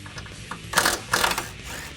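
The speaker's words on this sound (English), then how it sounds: "Now the last step to remove the struts is the 4 strut nuts located on top of the strut tower." A ratchet loosens the strut nuts on top of the strut tower of a 2005-2010 Mustang, giving two short bursts of rapid metallic clicking up close with no talk.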